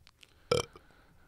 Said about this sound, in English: They burp.